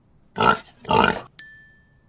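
A pig grunts twice in a children's animal-learning app, two short rough bursts close together, followed by a bright ringing chime.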